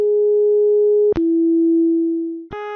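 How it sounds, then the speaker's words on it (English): Three pure electronic sine tones in sequence from an Arduino synthesizer, each a steady held pitch, with soft clicks between notes, playing the Westminster chime melody. "Here we have the Westminster chime as sine waves."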